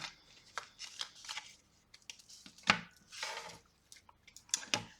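Tarot cards being cut and handled up close, with quick papery slaps and riffling flicks arriving in an irregular series of short bursts, fairly quiet.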